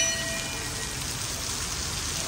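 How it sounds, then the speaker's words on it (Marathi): Steady, dense rain pours continuously, a broad even hiss close by with no pauses, no voices and no other sounds over it. "चला एवढा पाऊस."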